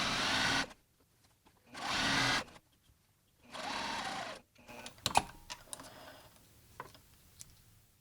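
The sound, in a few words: sewing machine back tacking a pants side seam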